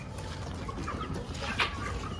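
Hens cluck among ducks as they feed together on a farm, a steady busy patch of soft clucking and fowl chatter with one brief louder call near the end.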